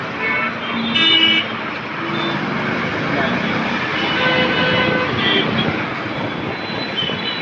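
Heavy road traffic in Hyderabad rumbles steadily, with a few horn toots rising over the engine noise, while a voice talks over it.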